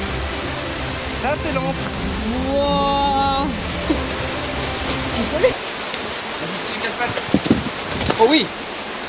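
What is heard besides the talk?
waterfall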